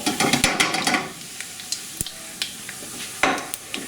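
Cayenne, paprika, coriander powder, turmeric and garam masala toasting in a pan, giving a soft, close sizzle with scraping stirs. The stirring is busier at first, then thins to sparse taps and scrapes over a steady low hiss.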